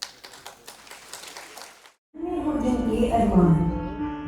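Audience applause at a Founder's Day show in Tagore Theatre, welcoming the Soulian Dance Troupe: a spell of scattered clapping fades to a brief silence, then loud music with singing takes over.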